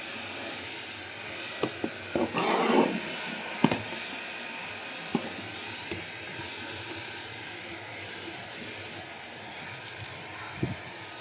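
A Xiaomi G20 Lite cordless vacuum cleaner runs with a steady, high-pitched whirring drone throughout, close and fairly loud, broken by a few brief knocks and bumps of handling.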